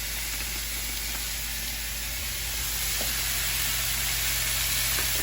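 Meat frying in a pan with seasoned salt for carne a la Mexicana, giving a steady, close sizzle and hiss that runs alone without pause.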